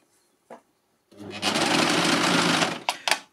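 A LUCIE overlocker by Success stitches a piece of fabric in one steady, loud mechanical whir lasting about a second and a half, with a faint tap before it starts and a few short clicks after it stops.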